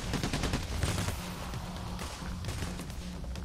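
Gunfire in the video game Payday: The Heist, with dense bursts of automatic shots and a steady low hum running throughout, loud and continuous for a few seconds with no talking.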